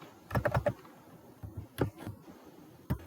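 Computer keyboard keys are struck close by while HTML code is typed, a quick burst of clicks followed by a few scattered single keystrokes and short pauses.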